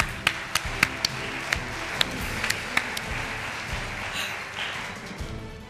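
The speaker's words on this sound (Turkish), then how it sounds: "O zaman alkışlar." Studio audience applause at a Turkish fashion competition show finale, a patchy burst of scattered claps and taps over a low murmur, moderately loud, with no speech.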